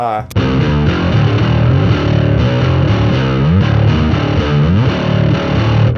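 Heavily distorted electric guitar through a Fractal amp modeler with no boost chugs and slides through a riff, thick and loud, with palm-muted low notes and bending pitch sweeps.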